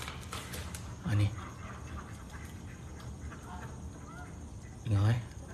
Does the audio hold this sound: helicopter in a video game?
no